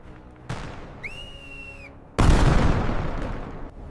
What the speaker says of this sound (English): The explosion inside is muffled and final